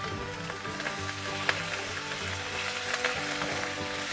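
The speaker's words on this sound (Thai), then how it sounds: "ผัดหมูกับพริกแกงให้หมูสุกนะคะ" Pork stir-fried with red curry paste in a hot pan, a constant close sizzle and crackle with occasional light stirring taps of the utensil, no voices.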